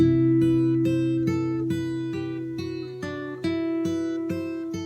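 Clean guitar picks out a repeating arpeggiated pattern of plucked notes while a low bass string rings underneath, steady and moderately quiet.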